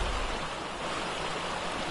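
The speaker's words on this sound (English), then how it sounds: "Nice big waterfall." A big waterfall in the game Ark: Extinction roars as a steady broadband rush of falling water, fairly close and unbroken, with no voices over it.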